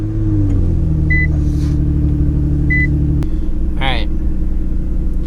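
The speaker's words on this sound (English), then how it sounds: "So put on the brake, start the car." Modded Nissan GTR cabin, a steady close engine drone with a shift in pitch as it starts and settles into idle, chime beeps and a short whirring sweep overhead, with speech-like sounds and no clear words.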